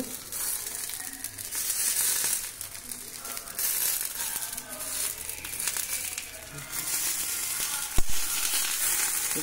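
Black pomfret fish fries in a pan with a steady, crackling sizzle that runs throughout at moderate loudness, marked by a single sharp clink near the end.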